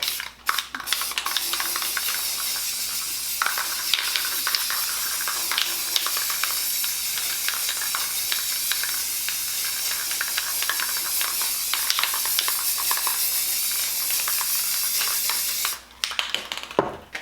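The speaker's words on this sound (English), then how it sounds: "We're going to come in with our Rustoleum Painter's Touch Black, and we are going to cover essentially the top third for now in this black gloss." Rustoleum Painter's Touch black gloss spray paint hisses from a can in a long, nearly unbroken spray for about sixteen seconds, loud and close, with faint rattles and clicks before it cuts off and briefly resumes.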